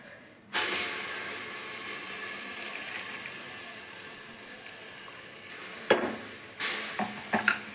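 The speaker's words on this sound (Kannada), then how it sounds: "ಈಗ ಕುಕ್ಕರ್ ಕಾದಿದೆ ನೋಡಿ ಇಲ್ಲಿ ಅರ್ಧ ಕೆ ಜಿ ಬೆಣ್ಣೆದಲ್ಲಿ ಕಾಲು ಕೆ ಜಿ ಬೆಣ್ಣೆ ಹಾಕೋತಾ ಇದ್ದೀನಿ" A quarter kilo of butter melts in a heated pressure cooker, giving a steady close sizzling hiss that starts abruptly and keeps going, with a few sharp clanks near the end.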